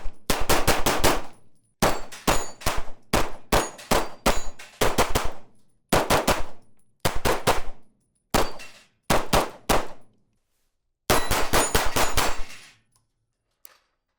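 A VKTR Industries VKP Pro double-stack 1911 pistol fired with a Staccato magazine produces loud, sharp, close gunshots in quick strings of several shots, separated by short pauses and ending with a single final shot.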